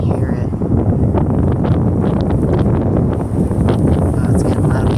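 Strong wind blows outdoors under a heavy sky, a loud, constant rumbling buffet against the microphone with rustling gusts throughout.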